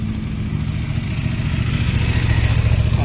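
Motorcycles at a bikers' gathering by Lake Como, their engines rumbling loud and close in a steady throbbing drone that grows slightly toward the end.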